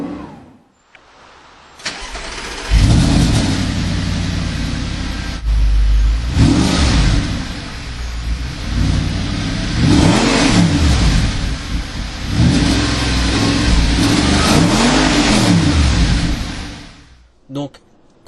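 A 2008 Audi R8 engine revs repeatedly outdoors, recorded from outside the car: several loud, sweeping rises and falls in pitch over a steady engine roar, with brief voices in places, before cutting off abruptly at the end.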